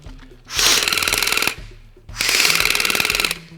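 Two loud bursts of rapid mechanical rattling from the small winding motor of an electric airsoft magazine on a Specna Arms SA249 LMG, each lasting about a second, separated by a brief pause with a low hum.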